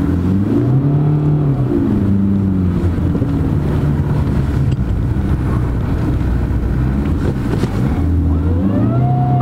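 A small Fiat Panda 4x4, stuck without traction, revs hard and bogs down in repeated rising and sagging engine surges, heard close and loud with wind buffeting the microphone.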